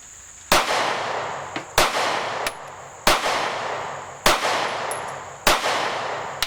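Five sharp, loud 9mm shots from a SCCY CPX2 pistol fired one-handed at a range, evenly spaced about a second apart, each with a brief ringing tail.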